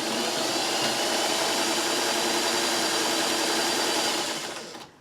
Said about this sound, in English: I'm just going to lay that right there, and I'm just going to sew